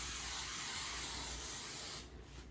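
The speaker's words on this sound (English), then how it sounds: "And I'm using Baker's Joy baking spray" Baker's Joy baking spray is sprayed into a 9x13 baking pan as a steady, soft, close hiss for about two seconds that then stops.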